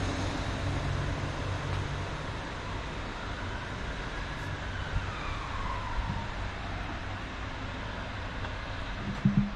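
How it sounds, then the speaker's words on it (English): A Northern class 156 diesel unit, 156452, rolls into Bolton station with a low, steady rumble and faint rising whine, heard from the platform at a moderate distance with no talk. "In comes the 9:04 Northern service. 156452 brings it in"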